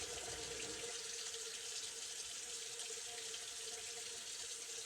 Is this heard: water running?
yes